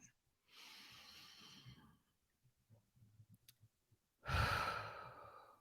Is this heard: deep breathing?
yes